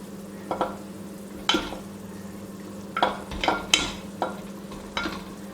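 Egg masala curry being stirred in a pan, with a spoon scraping and clinking against the pan in several separate strokes over a low steady simmering hum, close up and without voices.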